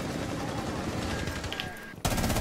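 Rainbow Six Siege gunfire crackles in a dense, steady automatic burst, then a louder rapid volley cuts in sharply near the end, close and harsh.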